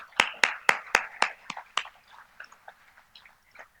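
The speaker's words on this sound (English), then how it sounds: "A round of applause, please." A small audience at an award ceremony claps, with a few sharp, loud claps at first that quickly thin into scattered, fainter claps before fading out.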